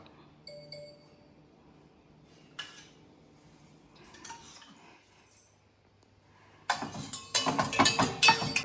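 Metal utensils scrape and clink against a pot as curd rice is spread in it, sparse at first, then a dense burst of rapid clattering near the end.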